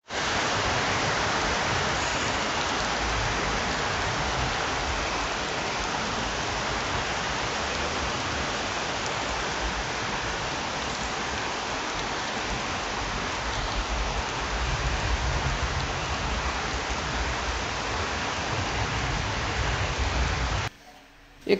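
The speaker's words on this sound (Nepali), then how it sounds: "पानी पर्यो अब भिजाउ छ है, पानी परो पानी परो।" Steady rain pouring down in a sal forest on a hillside near Pharping, a dense, even hiss of heavy rainfall that continues unbroken for the full length before cutting off abruptly at the end.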